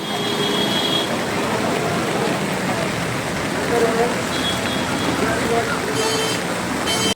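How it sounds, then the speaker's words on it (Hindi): Steady, dense hiss of heavy rain pouring continuously at Kainchi Dham Ashram, loud and close, with no pauses. "बहुत तेज बारिश हो रही थी।"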